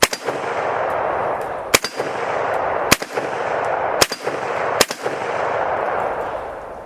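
A rifle chambered in 7.62x39 with a heavy rubber butt pad fires four sharp, loud shots at spaced intervals over steady outdoor background noise, with no talk.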